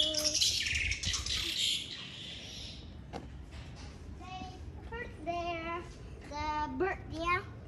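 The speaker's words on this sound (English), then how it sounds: "Oh, and the birds are tweeting." Several birds chirp and tweet outdoors during a walk, with bright repeated call phrases growing clearer toward the end alongside a voice and quiet background noise.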